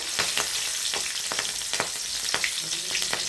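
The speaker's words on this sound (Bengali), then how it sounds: "কালো জিরে, চেরা কাঁচা লঙ্কা দিয়ে একটু নেড়ে নেব" Nigella seeds and slit green chillies sizzle in hot oil as the tempering for a Bengali koi fish curry, a bright continuous crackle with scattered pops and the scrape of stirring, close up throughout.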